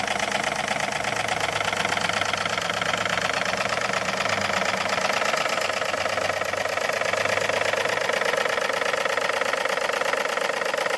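A small Märklin toy live steam engine runs continuously with a fast, even chuffing and mechanical rattle, loud and close, with no voices.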